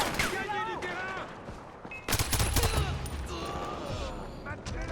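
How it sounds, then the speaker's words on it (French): Rapid bursts of gunfire crackle and boom amid battle noise in Far Cry 4, with a heavier blast midway, while voices shout over the shooting. "Des coups de feu."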